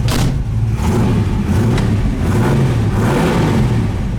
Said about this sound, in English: As far as our idle goes, it's idling about 700 RPM, which is about right.